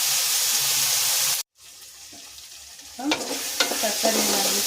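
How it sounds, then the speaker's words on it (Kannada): Chopped vegetables frying in a pan for vegetable upma, a loud steady sizzle that cuts off abruptly, then quieter stirring scrapes and clatter resume. "ತರಕಾರಿ ನೀಟಾಗಿ ಫ್ರೈ ಆಗಿದೆ."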